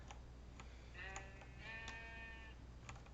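Sheep bleating in a Minecraft-style video game, one drawn-out wavering bleat and a second shorter one over light ticking clicks and low background hiss.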